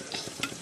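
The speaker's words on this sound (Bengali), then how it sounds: "ওই শাকটা এখানে ভেজে নিচ্ছি।" Greens fry in hot oil in a wok, giving a close crackling sizzle broken by quick scraping stirs, one sharper stroke standing out near the end.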